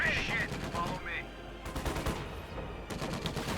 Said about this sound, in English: Bit of a shootout here.